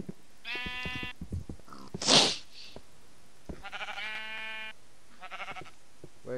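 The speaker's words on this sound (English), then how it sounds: "A sheep! Kill the sheep!" Sheep in the video game Minecraft bleating several times, clear wavering game-sound bleats spaced apart, with a short hissing noise between them and no talk over them.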